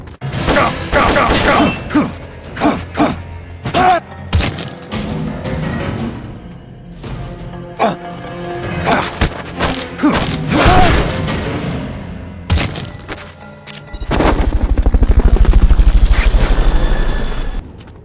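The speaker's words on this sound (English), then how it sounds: "Fulton recovery subject confirmed onboard helicopter." Fulton recovery extraction to a helicopter in the video game Metal Gear Solid Peace Walker: a dense, busy mix of game effects and voices, ending in a loud, sustained rushing whoosh with deep rumble over the last few seconds.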